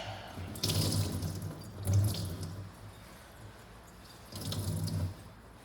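Water splashes and drips in bursts as a wet carpet cleaning bonnet is wrung out by hand, three separate squeezes close by with quiet pauses between.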